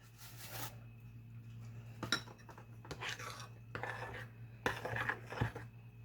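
A utensil stirring taco seasoning into food in a pan, with soft scraping strokes and several clinks of metal against cookware, quiet and close, repeating in irregular bursts.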